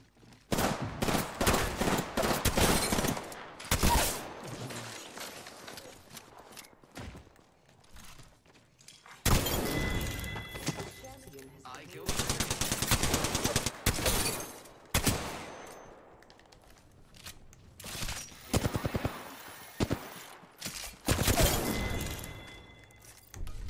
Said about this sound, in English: Boom! Pop! Pow! Mastiff in solos!